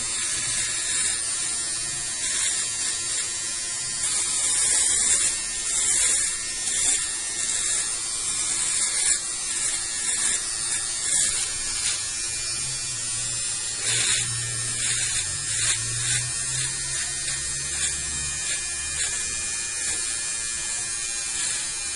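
A Powertec TR 1818 electric shaver runs and cuts beard hair, a steady high buzzing motor with rasping, crackling texture that swells as the blades pass over stubble, close and continuous without talk.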